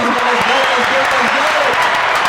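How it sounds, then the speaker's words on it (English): A crowd at a nonprofit organization event applauds loudly and continuously, the clapping blended with cheering voices and talk. "Y'all give a big round of applause for them."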